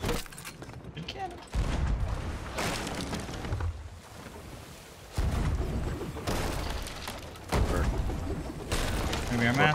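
Cannon fire in a naval video game, rendered as repeated loud booming bursts at roughly one- to two-second intervals over a continuous rumble of creaking and sea noise, with talk mixed in.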